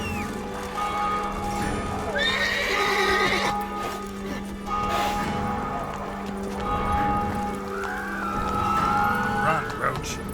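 Roach, Geralt's horse in The Witcher 3, heard in game with hoofbeats and a whinny under a steady bed of ambient game sound and music, moderately loud and continuous.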